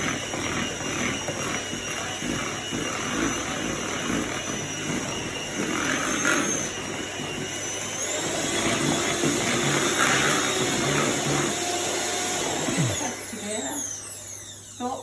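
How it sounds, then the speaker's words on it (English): An electric hand mixer whirs continuously while whisking coffee loaf batter in a bowl, a steady buzzing motor whine with scraping variations, running for most of the stretch before stopping near the end, with a voice speaking over it. "And then your hand mixer and just whisk it all together."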